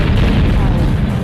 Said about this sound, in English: you shoot the enemies with your giant cannons